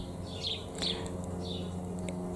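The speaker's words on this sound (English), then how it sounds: "Little sparrows chirp." Small sparrows chirp in a cottage garden in May, a few short high tweets scattered over a few seconds against a steady low background hum, fairly faint and distant.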